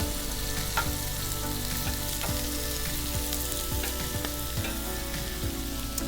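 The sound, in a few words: Brussels sprouts sizzling in a hot pan on induction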